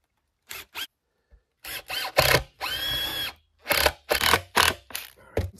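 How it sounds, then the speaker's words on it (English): A power drill drives screws to fasten a part down. Short whirring bursts come in quick succession, with one longer steady spin in the middle, close and fairly loud. "Let's fasten this down with some screws."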